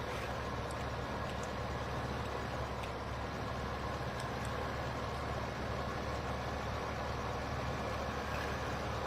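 A tractor engine runs at a steady low drone in Farming Simulator 15, unchanging throughout with faint high clicks scattered over it.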